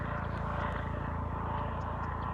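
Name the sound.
Coast Guard helicopter flying overhead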